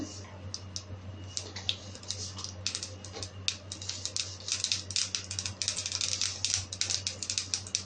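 Mustard seeds crackle and pop in hot oil in a cooking pan, a dense run of sharp little snaps that grows busier toward the end over a low steady hum.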